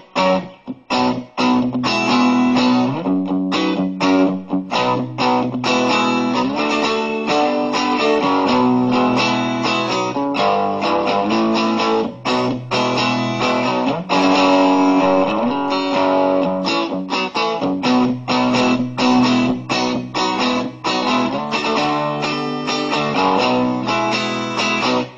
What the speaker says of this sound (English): I tuned to an open G, and it could sound like this.